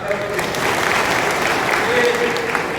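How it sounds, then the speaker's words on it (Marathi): A crowd at a farmers' rally in Devgad breaks into continuous, loud clapping that holds evenly from start to finish. "त्याबद्दल त्यांचं अभिनंदन आणि टाळ्या केल्या पाहिजे"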